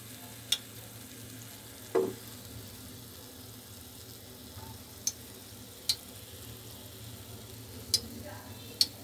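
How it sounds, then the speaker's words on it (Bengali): Donuts fry in hot oil while being stirred and turned. A faint, steady sizzle sits under a low hum, broken by a few sharp, scattered pops and clinks. "সবকটা নেড়ে নেড়ে ভেজে নিচ্ছি"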